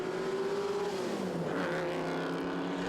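A vintage race car at a regularity session of the 2022 Winton Festival of Speed, its engine note rising steadily as it powers onto the start-finish straight, loud and continuous with no talk over it.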